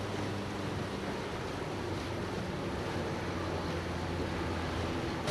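The Virginia V steamboat moves along at a good speed, its engine running at about 120 RPM with a reported knock, heard as a faint, steady low throb under continuous wind and water rush, with no talk.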